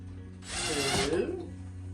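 A power drill drives a screw into a 2x4 workbench frame in one short, close, rising whir of about a second, set against a steady low hum in the workshop.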